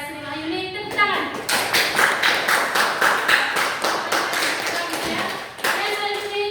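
A class of high school students claps rhythmically in quick, near, distinct beats for several seconds after a student answers, with some talking at the start and end.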